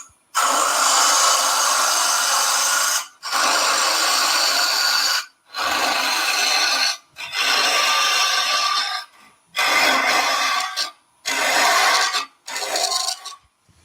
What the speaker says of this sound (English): Now I'm turning there at 1600, and I'm going to side cut first.